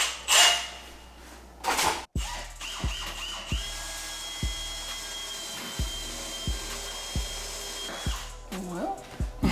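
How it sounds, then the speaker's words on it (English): A power drill pre-drills a hole in a wooden cabinet, with a short burst of whirring followed by a regular series of sharp knocks and clicks, close and fairly loud. "I'm about to actually use this drill bit, pre-drill a hole"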